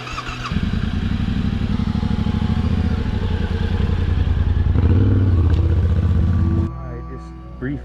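A motorcycle stuck on a rough pick-axe loop trail being heaved and pulled backwards: a loud, close idling engine throbs steadily, then cuts out, leaving clattering and shuffling, with people talking over it.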